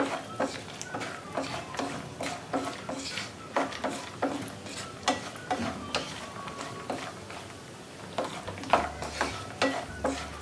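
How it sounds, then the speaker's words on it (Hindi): Cashews and almonds frying in ghee on a low flame, a soft sizzle under repeated, evenly spaced stirring scrapes and taps of a spoon against the pan. "काजू, आलमंड और किशमिश को घी में फ्राई कर लेती हूँ।"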